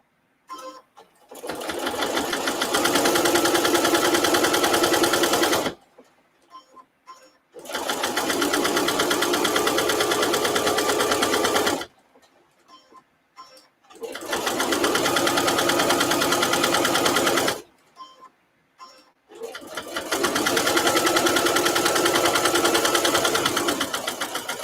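Sewing machine stitching around the edge of a placemat with mitered corners: four long, steady bursts of loud, close whirring, each several seconds, separated by short pauses with small handling clicks.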